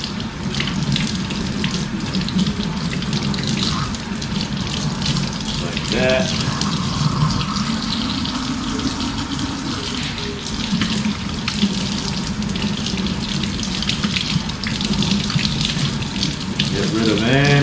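Cold tap water gushes steadily over shark meat in a sink, a continuous loud splashing rush lasting the whole stretch while someone speaks briefly over it.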